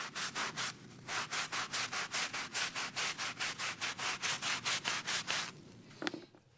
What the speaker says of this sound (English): thoroughly worked it in with a stiff brush